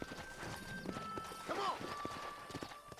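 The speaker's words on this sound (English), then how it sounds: "Dá pra roubar esse cavalo?" Horse hooves clip-clop in the Western video game Red Dead Redemption, a quick close rhythm of steps under a soft whinny and game ambience, with someone talking over it.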